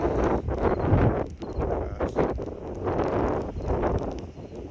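Strong wind from storm Ophelia roars in sustained gusts, buffeting the microphone with rumbling low noise that swells and dips over several seconds, no voices.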